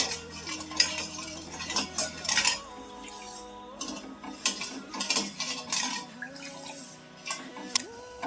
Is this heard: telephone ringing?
no